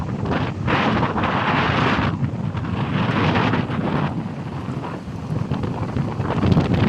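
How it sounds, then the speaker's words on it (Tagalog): Strong wind from a storm buffets the microphone in loud, roaring gusts that rise and fall, with a faint wash of large waves on a littered, sandy beach underneath and no voices. "Kasi masyadong malakas yung hangin."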